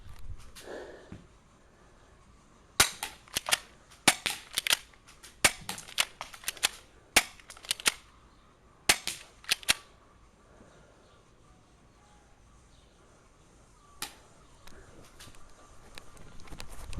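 Pistol shots in the video game Warhawk crack out in an uneven volley of about a dozen sharp reports, clustered in quick runs with short gaps, then a single late shot over a quiet background.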